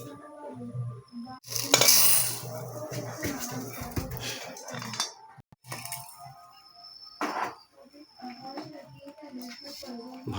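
Lentils lightly frying in a pan while being stirred, with soft sizzling and scraping of the spoon against the pan, a louder burst early on, and intermittent clinks throughout at close range.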